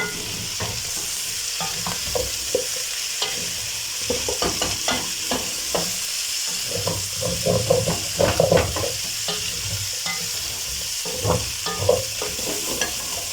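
Brined chicken frying in a pot while being stirred continuously: a steady sizzle with scraping stirring strokes and occasional louder bursts, close and without speech.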